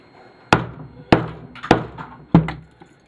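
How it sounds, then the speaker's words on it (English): A hammer beats apart a small television for scrap metal: four sharp, loud impacts land close by at uneven intervals, each one followed by a brief rattle of plastic and metal, with quiet pauses in between. "Beat the crap out of them with a hammer."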